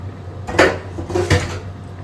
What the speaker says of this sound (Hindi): मैं मिक्स इसलिए कर रही हूँ ताकि इसमें लम्स नहीं आए बिल्कुल भी